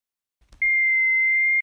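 A steady, pure FM synthesizer tone from the 7XDXFM app holds after a brief low thump, with a subtle wobble in pitch, sustained and fairly loud, alone.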